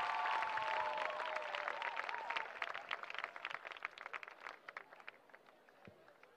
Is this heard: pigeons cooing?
no